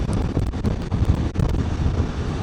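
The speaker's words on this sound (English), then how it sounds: "Pretty windy coming over the bridge here." Steady wind buffets the microphone while riding a Can-Am Spyder RTL across a bridge at night toward Beach Haven, New Jersey, a dense continuous roar with rapid gusting flutter and no talk.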